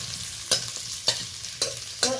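Sweet potato fries in oil in a pan with a soft, continuous sizzle, broken by four sharp scrapes of a spatula at roughly even intervals; no one speaks.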